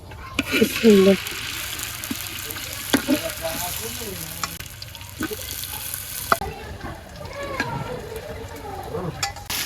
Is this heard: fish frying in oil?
yes